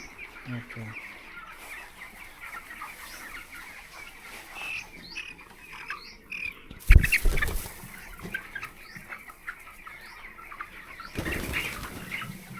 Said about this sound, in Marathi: हे सतरा दिवसाचे पक्षी